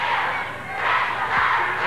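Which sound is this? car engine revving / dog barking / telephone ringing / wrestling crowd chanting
wrestling crowd chanting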